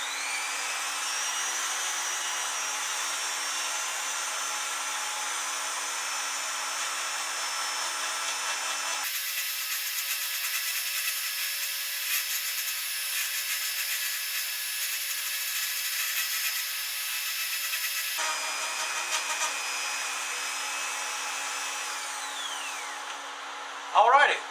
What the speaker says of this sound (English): Fire up my little Dremel. Adjust my speed down a little bit.